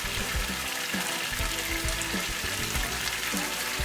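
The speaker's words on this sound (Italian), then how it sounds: "inserite la pasta nel sugo." Pasta sizzles and bubbles as it is stirred into an eggplant and tomato sauce for Sicilian pasta alla Norma, a steady loud frying hiss with soft stirring thumps throughout.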